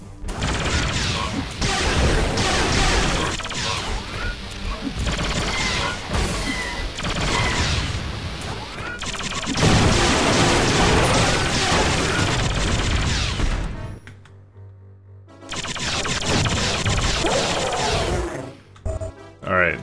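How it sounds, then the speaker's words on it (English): An assault cannon firing in the shooter Duke Forces: loud sustained bursts of rapid mechanical blasts and crashes, rolling almost continuously, with a short near-silent break before the firing resumes. "Alright, assault cannon."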